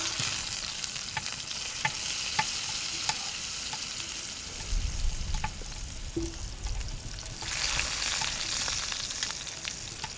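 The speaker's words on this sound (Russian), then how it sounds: "Сейчас жарим картошку." Potatoes fry in a little vegetable oil in a pan, giving a continuous soft sizzle and crackle with occasional stirring scrapes, heard alone at moderate level.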